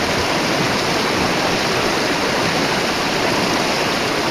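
Water splashes and tumbles in a constant, loud, roaring cascade near a bridge, a dense, unbroken rush of white water with no voices.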